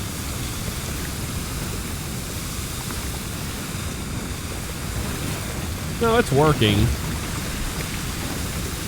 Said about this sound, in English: they're hitting it with water and foam, so we're getting both